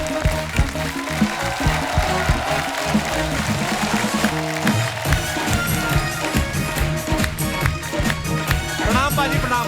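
A theatre audience claps loudly and continuously to welcome a guest onto a comedy stage, a dense steady wash of applause with faint cheering underneath.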